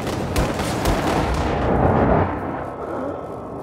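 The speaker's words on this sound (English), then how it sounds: "Just shooting those canisters." Gunfire in Wolfenstein II striking canisters: a steady barrage of dense, booming shots and bursts, loud and close, with rumbling low impacts sustained through the whole stretch.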